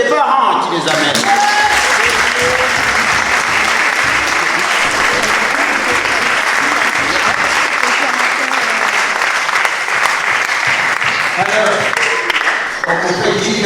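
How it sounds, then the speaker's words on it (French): A church congregation applauds the parents at a youth Mass at Saint Joseph church, with sustained, dense clapping from a large crowd that carries steadily for over twelve seconds before tapering off. "mais aussi vous applaudissez les parents qui les amènent."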